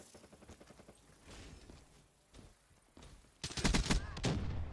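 A gunfight in the video game Blackout: scattered, moderate shots at first, then a sudden loud, dense volley of rapid gunfire near the end.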